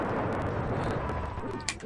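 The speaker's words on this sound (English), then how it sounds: "So I'm gonna grenade this guy" A grenade explosion in the SNES game Iron Commando, a dense rumbling burst that fills the low end and decays over about two seconds, with a few sharp pops near the end.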